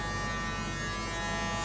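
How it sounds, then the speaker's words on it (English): Electric razor buzzing steadily through a haircut at a barbershop, shaving hair off the head; a continuous close, even hum with no talking over it. "So I think I'm just gonna shave it all."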